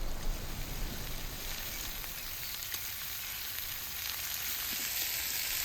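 Beef tongue fries with garlic oil in a pan outdoors, a soft, even, continuous sizzle and crackle, steady and fairly quiet throughout.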